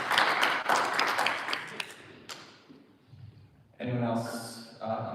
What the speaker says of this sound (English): I'd like to give Thomas a good golf clap for this one.